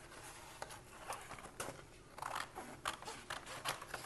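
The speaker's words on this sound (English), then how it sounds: "I'm going to cut it out." Scissors snip and crunch as a printed piece is trimmed out, a run of short soft cuts spaced irregularly across the moment, close and quiet with no talk.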